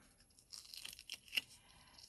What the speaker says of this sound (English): release the backing paper from the top.